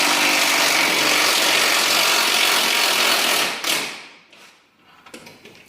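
A ratchet wrench works steadily to loosen the front crossmember bolts on a Porsche 924 S during engine removal, a dense continuous clatter for about three and a half seconds before it stops, followed by a few faint metallic knocks.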